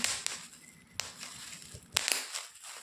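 Bubble wrap packaging is squeezed and popped by hand, giving a few sharp, scattered snaps with soft crinkling between them, close and fairly quiet.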